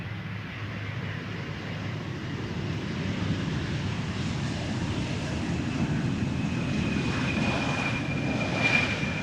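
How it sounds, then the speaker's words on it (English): An Embraer 175 airliner arriving at Amsterdam Schiphol on a sunny day, its engines giving a steady broad roar with a faint high whine, continuous and moderately loud, with no voices. "Another Embraer arriving from Norwich, Embraer 175"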